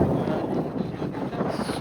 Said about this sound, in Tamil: அது எல்லாத்தையும் விட இப்போ அங்கேருந்து வர காற்று, அந்த ஃபுல்லாக வேறு இருக்குமில்ல, செம்மையாக அடிக்குதுங்க காற்று